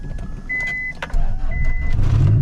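A turbocharged Honda Civic EF turns over with two short chime-like tones, then the engine catches about halfway through and settles into a loud, steady idle close by.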